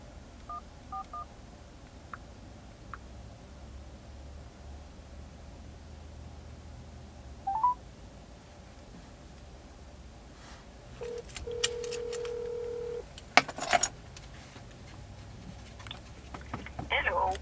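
Phone dialing tones as a woman calls her mother from her van in the evening, short beeps scattered over quiet background hiss, ending with a longer steady tone followed by clicks and handling noise.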